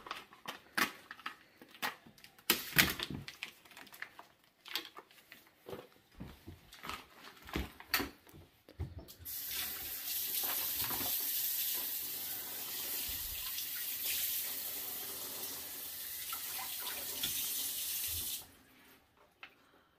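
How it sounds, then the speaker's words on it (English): Pork ribs being unpacked and rinsed under a running kitchen tap: scattered crinkling and handling sounds at first, then a steady loud rush of water for about nine seconds that stops abruptly. "So now that we have the ribs out of the package, rinsed off, they're back on here"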